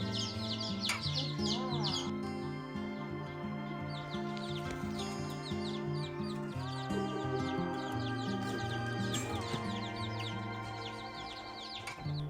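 Young chicks chirp in rapid, high little tweets that come and go over a steady background of music throughout.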